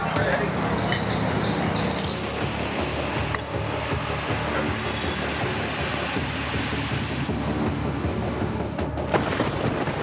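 Heavy monsoon rain pours down in Karnataka, a dense, steady roar of falling water that stays loud and unbroken from start to finish.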